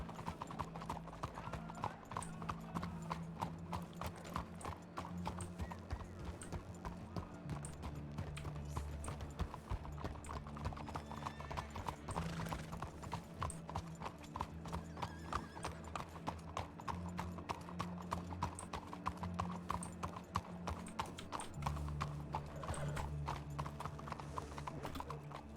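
Horses' hooves clip-clop steadily throughout in Red Dead Redemption 2 (RedM), several riders moving along a busy trail, with a continuous low musical drone underneath and occasional faint whinnies.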